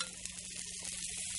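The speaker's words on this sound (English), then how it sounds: "You want to hear that sizzle." Chicken seasoned with garlic salt frying in a stainless steel skillet, giving a steady bright sizzling crackle that stays close and fairly loud throughout, with no talking.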